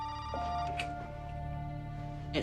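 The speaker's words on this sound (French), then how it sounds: "C'est là que le téléphone s'est mis à sonner." A telephone bell rings with a steady electronic tone, starting shortly after the opening and holding through most of the stretch, set against a low background hum, with a couple of brief rustling bursts.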